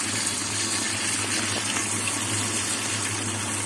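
Steady gush of very cold water pouring into a bowl, a constant close splashing rush with no pauses and no talk.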